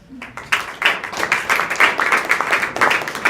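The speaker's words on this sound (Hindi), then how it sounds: "ताली बजाइए।" A room of students at a school adolescent education session breaks into clapping, a quick irregular patter of many hands, close and lively, holding steady for several seconds.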